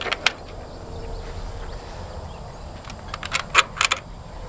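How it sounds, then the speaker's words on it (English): The door of a wooden A-frame chicken tractor being unlocked on pasture: faint metallic jingles and clicks of a latch or lock, a sharp tap at the start and a cluster of bright rattles near the end, quiet and close. "Oop, gotta unlock it."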